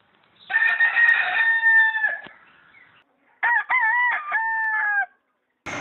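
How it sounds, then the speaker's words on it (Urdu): A rooster crows twice, loud and close, each call a long drawn-out cock-a-doodle-doo with a short gap between, with no other sounds around it. "ابھی آپ نے مرغے کی اذان سنی ہوگی"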